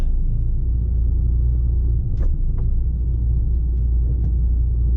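A lorry's diesel engine rumbles low and steady as the truck pulls away on a snowy UK day, with a couple of faint clanks over the drone and no talking.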